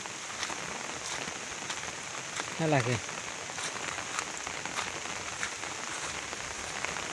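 Heavy rain pours down in a dense, continuous hiss with scattered louder drops, while a voice talks briefly over it.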